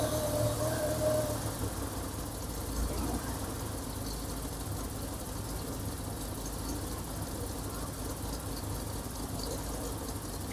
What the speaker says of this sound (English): It's idling pretty rough.